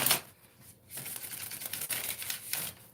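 A tarot card deck shuffled by hand, soft crisp riffles and papery flicks in quick irregular bursts, close and fairly quiet, with no talking.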